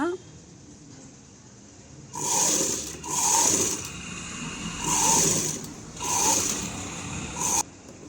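A sewing machine stitches the lining cloth along the seam of a blouse, running in five short whirring bursts with brief pauses between them, close and moderately loud.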